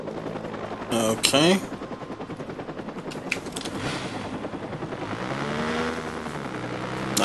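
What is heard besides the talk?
helicopter being chased in video game Watch Dogs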